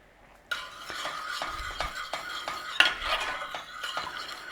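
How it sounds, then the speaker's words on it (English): Steady stirring of a cream sauce in a pan over a low flame, a spoon scraping and tapping the pan in a repeated rhythm, close and clear with no talk. "Nice little stir in."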